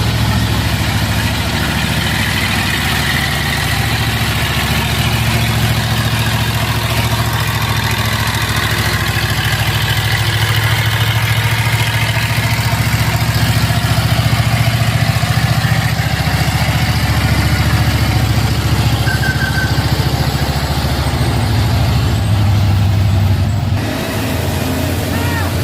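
A Fuso truck's diesel engine idles as a low, steady rumble throughout, loud and close, with a brief hiss near the end.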